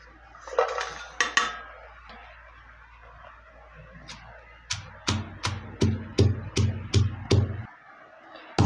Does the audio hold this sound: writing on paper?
no